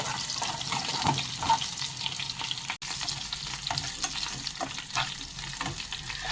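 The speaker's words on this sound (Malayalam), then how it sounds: "2 പീസയുള്ള ഉള്ളിയും കൂടി ഇട്ട് അതും കൂടി ഒന്ന് വഴന്ന് വന്നു കഴിയുമ്പോൾ നമുക്കതിലേക്ക് കരിയാപ്പിലയും അതുപോലെ തന്നെ വറ്റൽമുളകും കൂടെ ചേർക്കണം" Onions browning in hot oil with curry leaves and dried red chillies for a koottu curry, a continuous close sizzle and crackle with occasional stirring scrapes, no voices.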